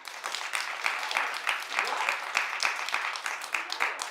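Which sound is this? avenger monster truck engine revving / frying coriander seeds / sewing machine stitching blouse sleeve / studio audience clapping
studio audience clapping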